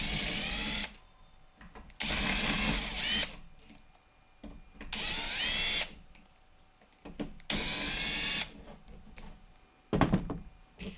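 A power tool spins off motor mount bolts on a Mercedes E55 AMG with an M113K engine, in four loud close bursts of whirring with quiet gaps and a short final burst.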